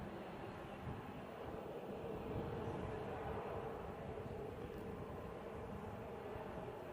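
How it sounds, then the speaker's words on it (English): Dash 8 turboprop propellers at Manchester Airport make a faint, distant steady drone with a low throbbing rumble that persists evenly across the whole stretch. "You can hear the props in the Dash 8."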